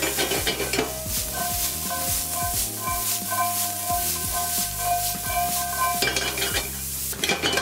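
Turnips and celeriac sizzling steadily in olive oil in a hot pan while a utensil stirs and scrapes them, close and continuous with no talking.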